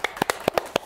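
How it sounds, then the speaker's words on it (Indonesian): Several hands clap in a short, quick burst of sharp, uneven claps at a podcast recording, close and bright, lasting under a second. "Tepuk tangan dong."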